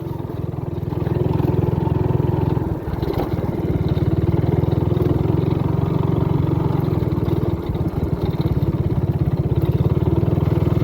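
A motorcycle engine runs steadily at a low, even idle, close and loud, with a brief dip in level around the third and eighth seconds and no talking.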